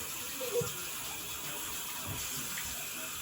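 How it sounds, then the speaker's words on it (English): Steady tap water runs into a sink for hand washing, a continuous broadband hiss with no talk over it. "Wash your hands very good"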